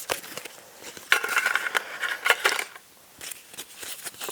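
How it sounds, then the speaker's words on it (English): Draw cards for a monthly reading-list game being shuffled by hand: a dense run of papery riffling bursts in the middle, then a few lighter flicks and taps, close and fairly quiet. "Again, I'll shuffle the draw cards."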